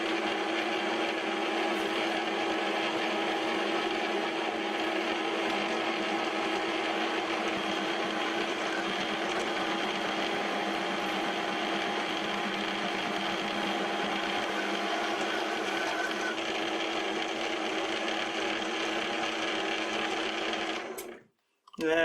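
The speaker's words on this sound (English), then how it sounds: "I switched to a 25 millimeter drill for the next step." A 25 mm drill bit boring into a mini grinder tool holder, a continuous loud whirring grind held steady for about twenty seconds before cutting off abruptly at the end.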